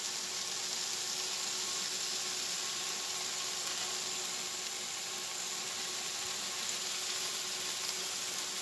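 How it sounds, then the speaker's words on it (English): Bacon and hot dogs frying in a pan, a steady faint crackling hiss of sizzling fat that holds evenly without pause. "We're just gonna fry this up."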